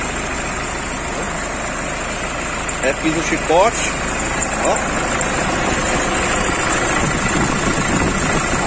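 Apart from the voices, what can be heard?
2005 Toyota Hilux 2.5 engine idling smoothly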